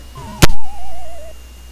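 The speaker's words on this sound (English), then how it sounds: "that was the sound of me hitting my face" A single sharp slap to a face lands loud and close over a Zelda: Oracle of Seasons game tone that drifts slowly downward.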